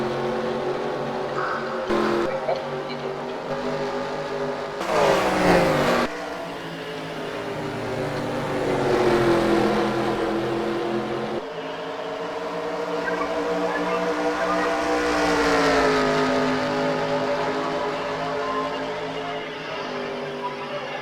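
Race cars lap Rustbelt Raceway in a Piston Cup race in a Cars video game, with loud engines droning and rising and falling in pitch as they pass, and a sharp burst of louder racing noise partway through.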